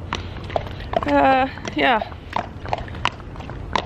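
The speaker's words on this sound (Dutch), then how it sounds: "Naast je paard wandelen" A horse walks beside a person leading it by hand, its hooves clip-clopping in a soft, steady rhythm close by, while someone talks in Dutch and the horse lets out two short whinnies.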